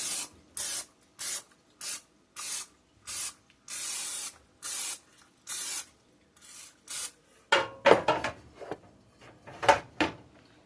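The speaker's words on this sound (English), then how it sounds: "Gonna spray our pan." Repeated short hissing bursts of cooking spray onto a pan in an even rhythm, followed by a few scraping, rubbing noises close by.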